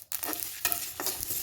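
Whole spices roast in a hot pan on a gas stove, giving a steady, close sizzle broken by bursts of stirring and scraping and faint crackling pops, with no voices.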